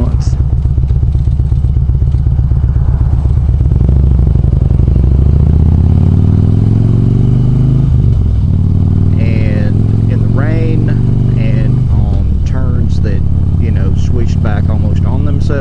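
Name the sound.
Harley motorcycle riding on the road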